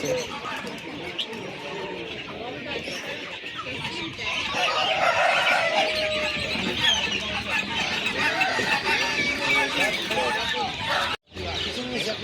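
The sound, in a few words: chickens clucking at a market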